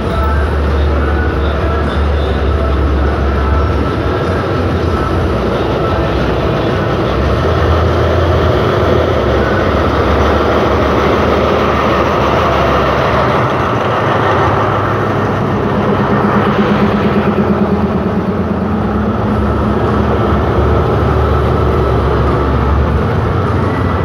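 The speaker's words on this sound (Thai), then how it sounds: "ขบวนรถด่วนที่83นะครับบางบำรุตรังนะออกจากชานชาลาที่1ที่สถานีบางบำรุ อันสตอม MTU นะครับ4404ค่อยๆเคลื่อนขบวนออกแล้วนะ" Express train 83, pulled by an Alsthom locomotive with an MTU diesel engine, rumbles deeply and steadily as it slowly departs platform 1 at Bang Bamru station, close and continuous under light background noise.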